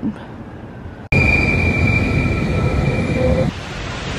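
London Underground Tube train running, a steady loud rumble and whine with a sustained high squeal, starting abruptly after a door-like thud and dropping in level near the end, with faint voices underneath.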